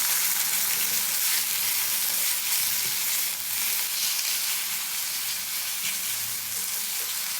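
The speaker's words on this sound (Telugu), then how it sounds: "ఇప్పుడు తాలింపు వేసుకుందాం." Dried red chillies and curry leaves sizzle in hot oil with ridge gourd paste for a chutney tempering, a steady close, loud hissing fry with faint stirring underneath and no voices.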